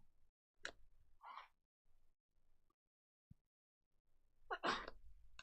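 Two separate sneezes, a short sharp one early on and a fuller, louder one near the end, with faint rustling and a small knock between them in an otherwise quiet room.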